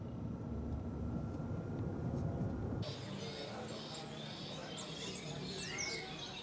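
A bird market in Sukabumi with parrots and bowerbirds gives off scattered chirps and bright calls that build after a low muffled start, mixed with a background hum and a voice talking.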